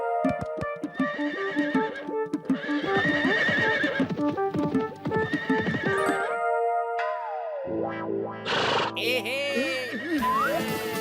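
A cartoon horse from Motu Patlu neighs and trots, with clip-clop hooves and whinnies over a busy musical score, ending in a loud, effect-laden neigh.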